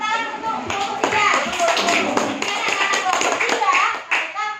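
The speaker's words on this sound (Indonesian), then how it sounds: "tepuk tangan untuk kelompok 3" Clapping from a classroom group applauding a team of students, mixed with children's voices and chatter throughout, fairly loud and continuous.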